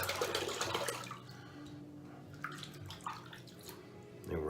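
Water running and splashing from a tap while a razor, a vintage Gillette adjustable, is rinsed after shaving, fairly faint and close, with short bursts of flow and a few clinks.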